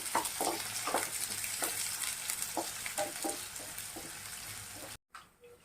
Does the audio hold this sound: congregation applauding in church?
no